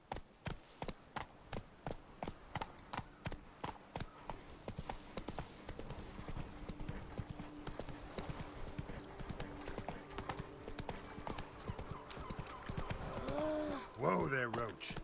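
In the Witcher 3 video game, a horse's hooves gallop in a fast, even clip-clop rhythm that stays close and clear, then roughens and blurs near the end as a voice or whinny rises.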